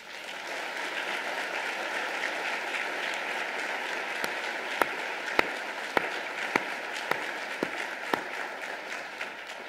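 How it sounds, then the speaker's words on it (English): Crowd applause honouring first responders during a 2017 state of the city address, a steady even wash of clapping with a few sharper, louder claps standing out in the second half. "I do want to give a collective round of applause to our incredible first responders"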